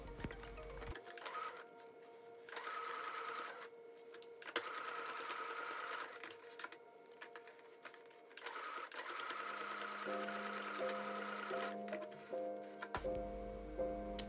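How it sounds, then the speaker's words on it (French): A home sewing machine runs steady straight stitches through a pinned fabric face mask, a continuous whirring motor with a rhythmic needle hum. It stops and starts in a few bursts, close and alone with no talking. "piquer à l'aide d'un point droit sur votre machine à coudre"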